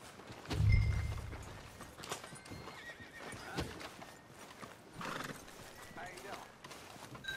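Horse hooves clopping in the video game Red Dead Redemption 2, scattered hoofbeats and a brief whinny mixed with game ambience, with characters talking over the sounds.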